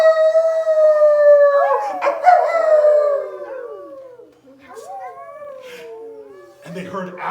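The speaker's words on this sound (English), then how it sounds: "they hunted night after night through the spooky woods where they heard wolves howling" Wolves howl: a long, wavering howl glides down in pitch, then rises and falls again, with a few shorter cries near the end; loud and close, no talking.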